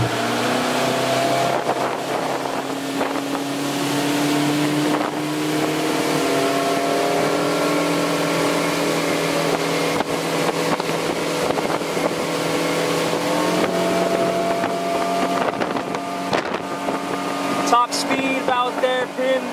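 A Parker 1801 center console bay boat skiff runs pinned at top speed, its outboard engine a steady, loud drone with wind buffeting throughout and a voice speaking briefly over it.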